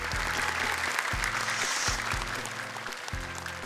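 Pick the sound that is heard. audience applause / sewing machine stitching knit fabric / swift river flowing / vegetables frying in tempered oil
audience applause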